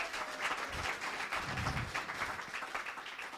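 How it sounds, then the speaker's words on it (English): An audience at an education summit general session gives a round of applause. The clapping is soft and distant, a continuous patter of many hands. "Let's give him a round of applause for that."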